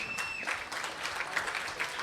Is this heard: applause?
yes